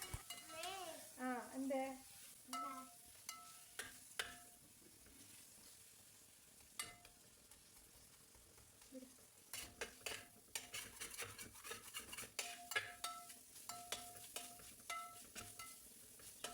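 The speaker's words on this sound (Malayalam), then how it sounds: "എന്നിട്ട് അത് നല്ല പോലെ വഴറ്റി" Onions and spices for ghee rice and pepper chicken are sautéed and stirred in a pan, with a soft sizzle and clinking, scraping utensil strokes, clustered in busy bursts at a moderate distance, and a few faint voiced sounds early on.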